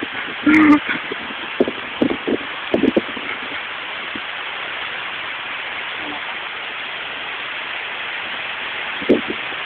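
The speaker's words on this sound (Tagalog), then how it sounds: "Lakas ng ulan ay" Heavy rain pours steadily at Bolo Beach in Pangasinan, a constant broadband hiss throughout, with a few brief voices and bumps near the start and end.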